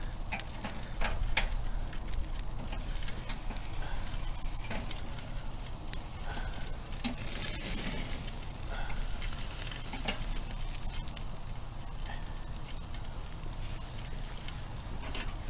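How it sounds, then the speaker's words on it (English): Beef steaks sizzle steadily on a charcoal grill at home after being flipped, a continuous crackling hiss with small pops, close and fairly loud throughout with no talking. "I'm going to flip over the steaks."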